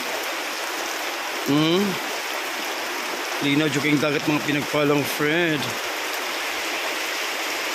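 Heavy rain pours in a constant dense hiss near the sea, steady and enveloping, while a person speaks intermittently over the downpour.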